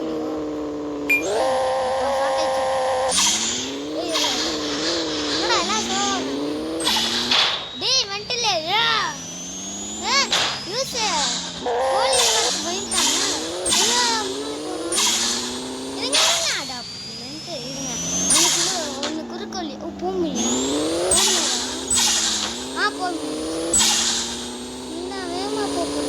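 Super cars in a racing video game roar at full speed, their engine tones sweeping up and down through rapid gear shifts, continuous and loud throughout with a voice talking over them.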